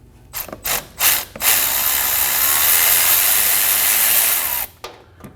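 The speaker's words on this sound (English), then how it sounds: "We're gonna be using a 10mm socket and an extension to get to the bolt." Ratchet wrench with a 10mm socket and extension loosening a bolt on a 5.6L V8 Nissan Armada engine, heard close and loud as a few separate clicks and then a long continuous ratcheting run.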